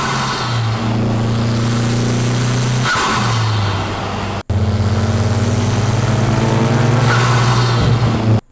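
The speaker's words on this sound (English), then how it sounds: "Next up is the intake." A car engine's intake roars close and loud as the pitch climbs and falls through gear changes, a sustained drone broken by a brief cut midway before resuming and stopping sharply.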